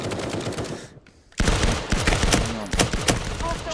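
Rapid automatic gunfire in the multiplayer shooter Firewall Zero Hour rattles out in close, loud bursts, with a short lull before heavy firing resumes and continues to the end.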